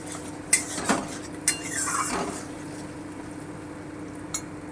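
A spoon scrapes and knocks against a pan while tomato paste and a whole medium tomato are stirred for a kofta curry, a few sharp metallic clinks punctuating a softer, wet shuffling at moderate closeness.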